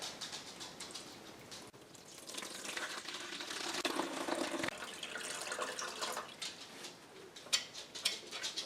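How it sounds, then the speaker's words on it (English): Water pours into the reservoir of an AeroGarden Bounty Elite indoor garden in a continuous splashing gush that swells and shifts in tone as the level rises, ending in a few louder sloshes. "All right, we're going to add our water."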